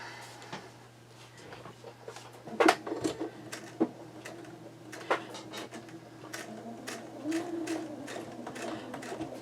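A quilting sewing machine runs slow straight stitches on a quilt, producing soft irregular mechanical clicks and thumps with a low steady hum beneath, close and fairly quiet.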